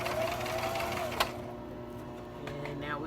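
Sewing machine stitching a closure, a steady close mechanical whir with rapid needle rattle running throughout, a brief click partway through, with no talking.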